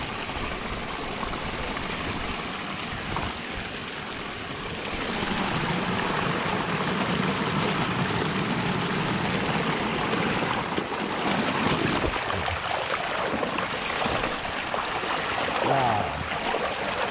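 Water drains out of a flooded rice field, rushing and gurgling in a continuous loud wash that swells slightly partway through, with no voices.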